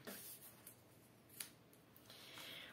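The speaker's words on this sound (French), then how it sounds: "Moi je vais le couper avec des grands ciseaux." Large scissors cut through folded cardstock along the crease, making faint close snips and a soft sliding crunch, with no talking.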